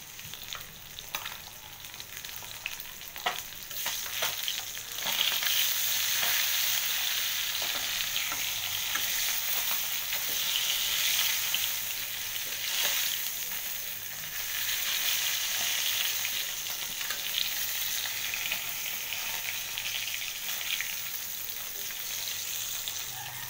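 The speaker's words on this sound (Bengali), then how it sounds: "আমার কড়াইটা গরম হয়ে গিয়েছে, তো আমি মাছগুলো ভেজে নিচ্ছি" Salted, chilli-rubbed taki fish fry in a hot wok, producing a continuous loud, close sizzle with crackling spits that swell and ease over time, with no talking.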